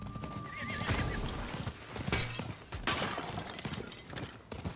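In a video game, clattering horse hooves keep a steady clip-clop rhythm alongside a clear whinnying neigh, set against dense ambient game sound with occasional sharp crashes.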